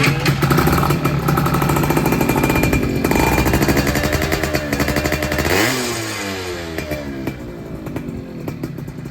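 A Yamaha F1ZR motorcycle's two-stroke engine runs loudly up close, revving up and down in a rough, throaty rattle before settling back to a lower idle.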